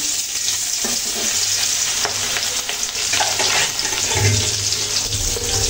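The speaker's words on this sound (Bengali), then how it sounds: "মাছগুলো ভেজে নিচ্ছি।" Continuous loud sizzle of mrigal fish frying in hot oil in a wok, close by and unbroken, with a faint low hum underneath and no talking.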